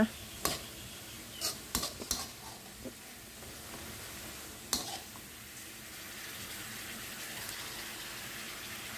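Pork cracklings stirred into chili paste in a pan: a few sharp knocks and scrapes of a utensil at the start, then a soft, steady wet stirring and faint sizzle that continues at low level.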